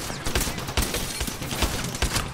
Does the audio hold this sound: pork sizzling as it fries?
no